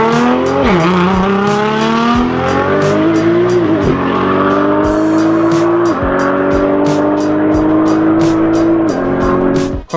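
Nismo-kitted Nissan GT-R Alpha 8 racing hard on a track, its engine loud and close, climbing in pitch through repeated gear changes with brief dips between shifts and a faint squeal of tires.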